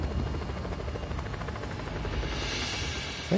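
A helicopter flies in a video game, a close, steady rhythmic rotor chop with a constant engine whine throughout, heard alone without talk.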